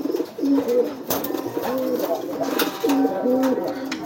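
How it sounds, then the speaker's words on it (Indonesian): A male pigeon coos in courtship beside a nesting female, giving soft, low, repeated rolling coos close by, with faint background rustling. "Biasanya jantannya belum tahu kalau betinanya itu sudah bertelur, jadi masih giring seperti ini."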